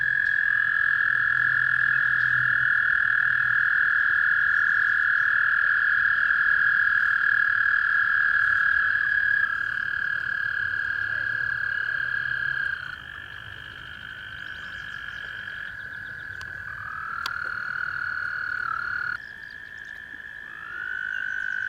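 An American toad at Leaser Lake trills in long, steady sustained calls, sometimes overlapping, close and loud over a quiet outdoor background with no voices.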